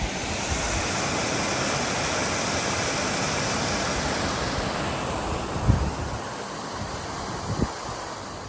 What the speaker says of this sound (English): There is only fractionally more water going into the lock than there is leaving it through these extremely leaky gates.